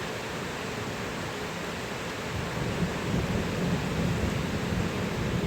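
Steady rain pours during a thunderstorm, with a low rumble of thunder swelling in the middle and lingering to the end, continuous and fairly loud with no voices.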